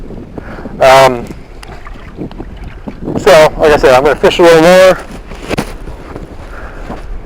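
Wind gusts across a small boat on Mosquito Lagoon, a steady rough rush and microphone buffeting running throughout while someone talks over it in bursts.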